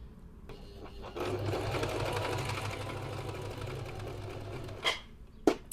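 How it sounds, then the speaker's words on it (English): A sewing machine stitches slowly along the edge of fabric in one steady, close whirring run, followed by a couple of brief clicks and handling sounds. "you kind of sew along the edge of the fabric"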